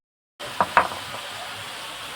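A jujube pickle cooked without water is stirred in a pan: a couple of sharp spoon knocks against the metal over a soft, steady sizzle, close and clear with no talking.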